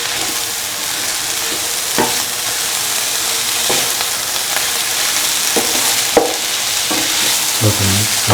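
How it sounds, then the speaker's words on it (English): Red spinach with cottage cheese is stirred and sizzles in a hot pan, steady frying crackle throughout with scraping stir strokes around 2, 4, 5.5 and 6 seconds; no talk. "Salt and mix red spinach with the cottage cheese."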